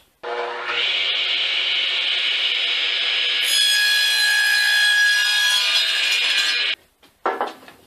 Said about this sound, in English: back to the radial arm saw, we'll cut it to its length of 13 3/4.